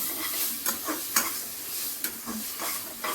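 Cut eggplant and potato sizzle in hot oil or ghee in a pan for a vegetable dish, with a continuous close hiss and several scraping stirs of a spoon through the pieces.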